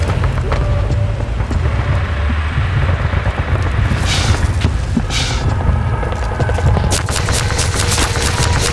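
Dense gunfire from Half-Life 2 gameplay: rapid automatic bursts and heavy booming impacts crowd together, loud and continuous with sharp crackling volleys throughout.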